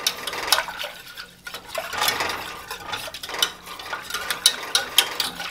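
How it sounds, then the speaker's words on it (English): A whisk stirs milk into a sauce in a cooking pot, clinking and swishing in quick, uneven strokes that sound close and fairly loud, with no talk. "we're going to whisk this together and cook it until it begins to boil and thicken"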